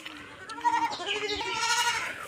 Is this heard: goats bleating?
yes